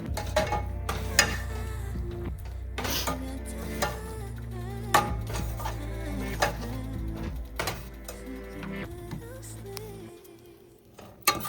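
Okra simmering in a creamy yogurt curry over a medium flame, stirred in a pan with a utensil: steady low sizzle and bubbling beneath repeated scraping and clinking strokes against the pan, close and continuous, fading near the end.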